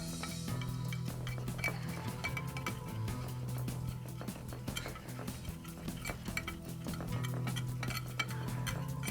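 Flour and baking powder being mixed in a bowl for vanilla cupcakes, a utensil clinking and scraping against the bowl in quick repeated strokes, close and steady throughout with no talking.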